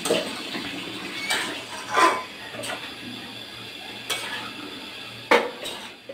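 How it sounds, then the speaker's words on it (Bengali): Cooked hilsa fish and potato curry being stirred and mixed in a pot, with a handful of distinct scraping clinks of a utensil against the pan over a soft background hum. "একসাথে মেখে নেড়ে চেড়ে দিচ্ছি"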